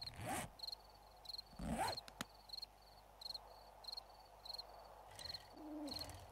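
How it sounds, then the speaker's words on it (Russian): Repeated owl-like hoots from birds in the survival game 7 Days to Die, a steady series of short calls spaced about half a second apart over faint insect-like chirring, with a few louder thumps and rustles nearby. "Блин, сраный птицы."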